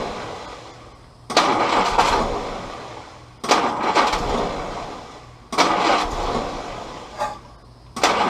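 A Willys CJ2a Jeep's L134 engine cranks in three long bursts of a few seconds each, with short pauses between them, the starter churning loudly without the engine catching, plus a brief fourth attempt near the end.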